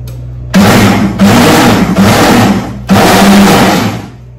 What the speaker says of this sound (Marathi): तर हे सुद्धा मिक्सर मध्ये काढून घ्यायचे आता.